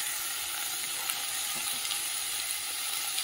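Soybean chunks frying in hot oil with salt and turmeric, a close steady sizzle and hiss with faint scattered crackles throughout.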